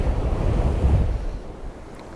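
Strong wind gusts buffet the microphone on a seaside fishing spot, a loud rushing roar over the low wash of surf, steady for a couple of seconds before easing slightly.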